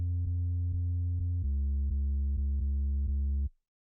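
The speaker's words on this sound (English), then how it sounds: "You can grab a simple sine wave" A deep, pure synthesizer sine sub-bass plays steady sustained notes, briefly retriggered at regular intervals, then stops abruptly; no other sounds.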